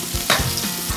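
Shallots and garlic stir-frying in hot oil alongside pork belly: a brief, close sizzle with one sharp scrape of a spatula through it, loud and steady with no talk.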